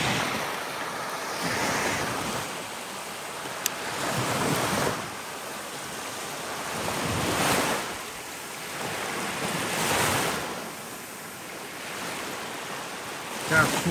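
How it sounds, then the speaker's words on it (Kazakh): Waves roll onto the Caspian Sea shore in slow, regular surges every few seconds, each swell rising and then washing back under a steady layer of wind. "Міне теңіздің жағасы."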